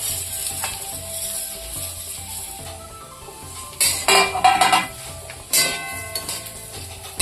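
Vermicelli roasting in a pan for sweet shevai, a soft sizzle at first, then louder clattering bursts of stirring with metal scraping and clinking against the pan, close by and without speech.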